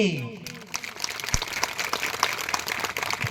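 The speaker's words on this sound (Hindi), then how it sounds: "इनरे तरफ से भी जोरदार ताली बजाओ" Audience applause at a religious discourse gathering in a village, fairly faint with scattered claps over crowd murmur, following a trailing voice at the start.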